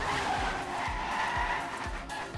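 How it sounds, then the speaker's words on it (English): Race cars in a Trackmania video game esports final skid and crash at the start, with a sustained engine whine and tire scrubbing and several rhythmic low thumps, and no commentary. "Safran will crash in the start."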